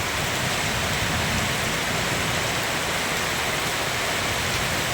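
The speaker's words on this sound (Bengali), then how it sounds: "একভাবে বৃষ্টি হচ্ছে, একভাবে।" Steady rain pours down during a thunderstorm at Mobarakpur Colony, Tehatta, Nadia, a dense, even hiss of drops that holds constant and loud throughout with no voices.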